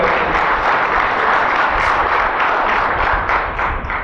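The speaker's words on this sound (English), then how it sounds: "So I think a round of applause first of all." Loud, dense applause from an audience at a startup event wrapping up a talk, continuous close clapping that holds steady and eases slightly toward the end.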